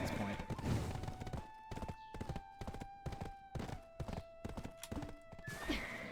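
Horse hooves clip-clop in a steady rhythm in the video game Black Desert Online, with a whinnying neigh, under game music and someone talking.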